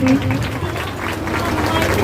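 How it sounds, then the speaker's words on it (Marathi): Audience applause at a Jain festival celebration in Sangli, India, a dense crowd clapping steadily and fairly loud for the full two seconds, with crowd murmur mixed in. "जोरदार एकदा टाळ्या वाजवा यांच्यासाठी."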